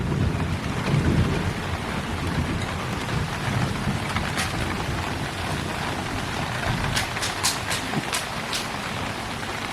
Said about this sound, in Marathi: आवाज बघा कसा आहे, तो गडगडत आहे नुसतं.